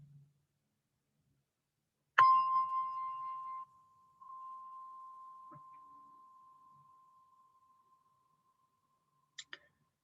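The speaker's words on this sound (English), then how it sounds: "as you hear the gong," A meditation gong struck once, ringing out with a bright clang and then a long, slowly fading tone, followed near the end by two faint brief taps.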